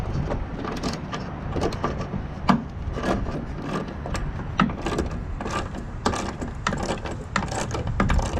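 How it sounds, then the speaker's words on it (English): Bolt being tightened on a Honda mower's plastic deck, a steady run of close, rasping ratchet clicks and scraping strokes with no talking. "Slip the bolt down and start tightening it up."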